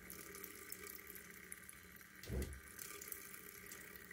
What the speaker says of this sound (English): I have no pressure on the kitchen faucet anymore.